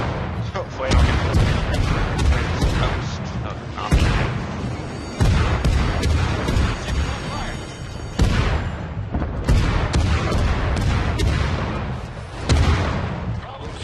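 Naval turret guns firing in World of Warships, heavy booming salvos recurring every few seconds with a rolling rumble between them, loud and close amid continuous battle noise.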